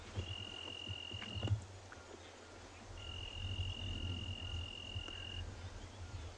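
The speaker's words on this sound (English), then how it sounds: "Sound of crickets in the night." Crickets chirp steadily through a quiet night at a South African safari reserve, faint and continuous, with two long, thin trills carrying over the low ambient hum.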